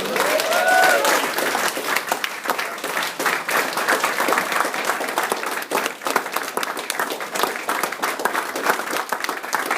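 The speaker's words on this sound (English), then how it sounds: "I want you guys to stand, give the biggest round of applause" A large audience gives sustained, loud applause, with dense steady clapping filling the room for the full ten seconds.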